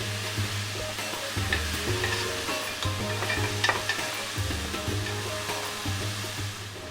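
Chopped bitter gourd cooks slowly on a low-medium flame, giving a constant close sizzle with repeated scraping stirs throughout and no talking.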